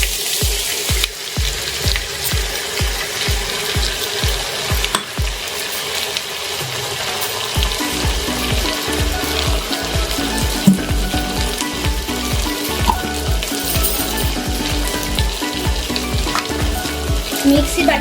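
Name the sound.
cashew, melon seed and poppy paste frying, stirred in pan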